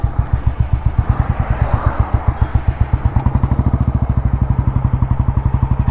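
A diesel Royal Enfield Bullet motorcycle idles and runs nearby, loud, with a fast, even thumping beat that speeds up slightly and stays steady, and no talking over it.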